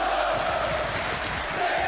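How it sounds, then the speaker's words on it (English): A capacity wrestling crowd chants in unison, a steady sustained roar of many voices filling the arena throughout. "This capacity crowd is chanting, "This is awesome.""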